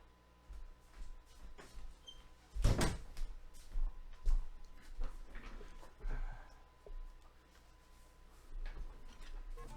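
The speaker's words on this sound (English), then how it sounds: "Just closing my door so the sound of the phone calls doesn't leak in." A room door is pulled shut with a single solid thud partway through, set against a low background hum and occasional faint clicks and knocks in a small room.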